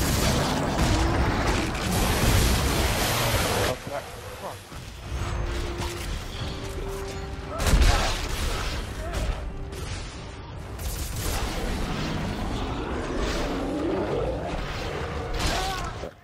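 Gunfire and clanking mechanical sounds in the video game Dead Space 3, with bursts of shots, metallic creaks and ratcheting noises that rise and fall over a sustained game soundscape.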